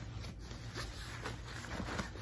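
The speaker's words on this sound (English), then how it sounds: "When the zipper does work, it closes completely" Zipper on a teacher tote bag being drawn closed, a close, soft continuous rasp over about two seconds with no talking.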